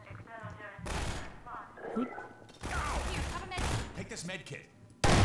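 Gunfire in the video game Half-Life 2 comes as loud bursts of rapid shots broken by short pauses, with a voice speaking between the volleys.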